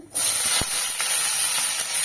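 Brinjal pieces hit hot oil tempered with kalo jeere (nigella seeds) for a Bengali sojne phool chorchori, setting off a sudden loud, steady hiss and sizzle that keeps going with small crackles.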